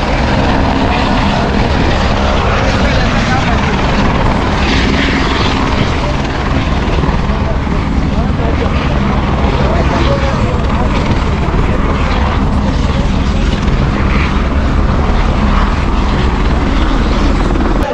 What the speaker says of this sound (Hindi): यहाँ तक आता है हेलीकॉप्टर।